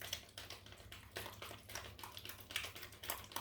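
A spoon stirs stevia and water in a bowl for Greek yogurt, giving quiet, rapid, rhythmic clicking and scraping taps that continue steadily throughout.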